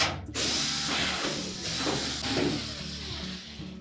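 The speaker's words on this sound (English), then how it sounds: "Then we're going to remove 2 1/4-inch hex head screws, 1 on either side of that console." A ratchet tool undoes the 1/4-inch hex head screws on a Whirlpool dryer console, producing a steady mechanical clicking whir that runs through most of the moment, close and moderately loud, with no talk.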